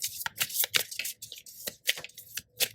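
A deck of tarot cards is shuffled by hand up close, giving a series of crisp, riffling bursts of card flicks in an uneven rhythm, with no speech.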